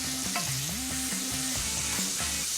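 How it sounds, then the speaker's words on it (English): Bacon, chopped chilli and crushed garlic fry hard in a pan, a loud close sizzle with scraping stirs and brief clatters as the ingredients are pushed around. "Fry off the chilli and the garlic."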